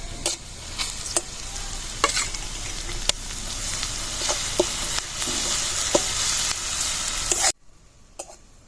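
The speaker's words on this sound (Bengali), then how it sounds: "এইবার এখানে যে সর্ষে কালো সর্ষে রসুন শুকনো লঙ্কা বেটেছি সেইটা আবার দিয়ে দেবো" Black mustard, garlic and dried chili paste frying with tilapia fish in a pan, a steady hiss with intermittent stirring scrapes and clicks that cuts off near the end, leaving near silence.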